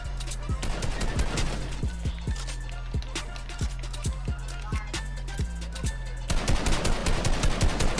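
Rapid gunfire from a multiplayer shooter game match rattles in dense bursts for nearly the whole stretch, sharp repeated shots close and loud with a steady low hum beneath.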